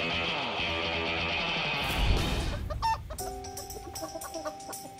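Chickens clucking nearby amid background noise, with a sharp burst midway followed by scattered clucks and clatter.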